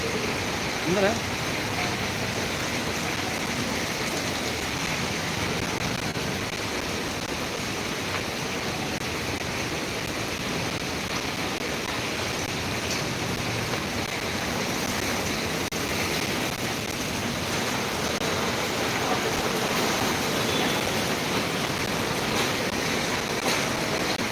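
Heavy monsoon rain pours over Mumbai in a steady, dense hiss that holds at an even loudness, with no clear breaks from start to finish.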